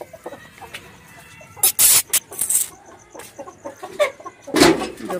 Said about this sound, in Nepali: अनि हाम्रो कुखुराहरू चाहिँ यहाँ बास बसिसकेछ